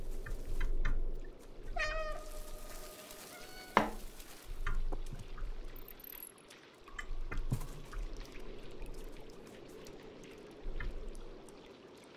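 Cat in the video game Stray gives a clear, close meow early on over ambient background with trickling water, followed by further faint game sounds.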